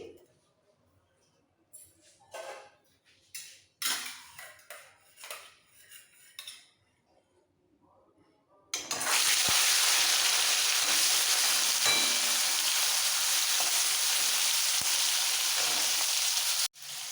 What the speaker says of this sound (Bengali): তেল খুব ভালোভাবে গরম হয়ে গেছে এবার নুন হলুদ দিয়ে মাখানো মাছগুলো ছেড়ে দিচ্ছি